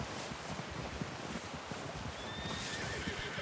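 A horse whinnies faintly in Red Dead Redemption 2 over a steady background hiss, with soft rustling and a few light hoof-like taps.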